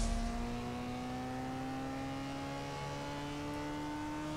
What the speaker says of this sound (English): Right, let's use that nitrous.